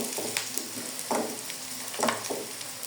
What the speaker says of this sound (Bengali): পেঁয়াজ লাল করে ভেজে নিয়েছি বাকি মশলা দিয়ে দেবো